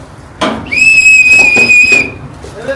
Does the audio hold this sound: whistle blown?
yes